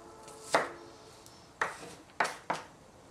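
A knife slicing through a tomato onto a cutting board, four crisp separate chops at uneven intervals, close and fairly quiet, with no talk.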